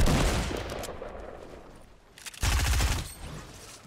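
Gunfire from the video game Fortnite, loud bursts of rapid shots at the start, a quieter gap, then another sudden sharp volley that trails off.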